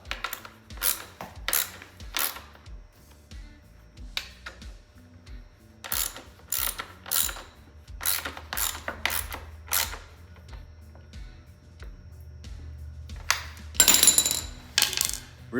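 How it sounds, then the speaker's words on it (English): Chain on a Sur Ron Light Bee X electric dirt bike being turned through by hand with a soft cloth, giving a run of light mechanical clicks and ratcheting ticks, close and fairly quiet, with no talking. "I like to take a soft cloth, put it in the chain, turn it through"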